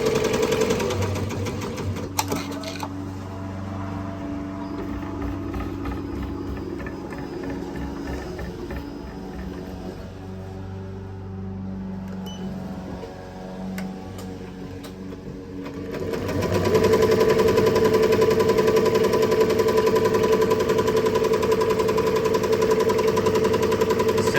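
A sewing machine runs steadily while stitching custom Diamondback BMX pads, its rapid mechanical chatter humming on continuously for the whole stretch and growing louder and brighter in the final third, with no voices over it.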